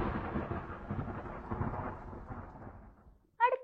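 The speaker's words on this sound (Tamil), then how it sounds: "மழை பெய்யும் போது இடி இடிக்கும் சத்தம் எப்படி இருக்கும்?" Thunder rumbles in a long, deep roll that fades away during rain, followed by a short sharp sound at the very end.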